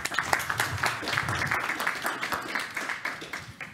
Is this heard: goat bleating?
no